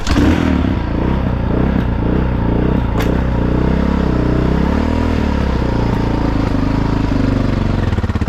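A 2005 Honda XR650R motorcycle engine runs loud and close, a steady rough idle with a few modest revs rising and falling, alone without talk.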